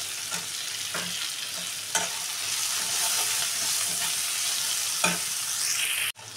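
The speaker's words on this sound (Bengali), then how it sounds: "এবার এটা টমেটোটা ভালো করে কষে নেব" Tomatoes with green chili and salt sauté in a pan, a continuous close sizzle broken by several sharp scraping stirs of a spatula, ending in a sudden clatter.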